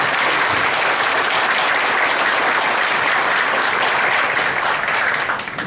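A crowd applauds at a political meeting in Samsun, producing loud, continuous clapping that fills the whole stretch without a break and tails off slightly at the very end.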